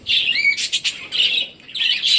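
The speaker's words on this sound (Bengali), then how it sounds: "এইভাবেই কিন্তু বুঝবো এটা ক্লাসিক্যাল বাজিগার পাখি" A budgerigar gives a quick run of high, bright chirps and warbles in short bursts with brief gaps, close and clear with nothing else behind it.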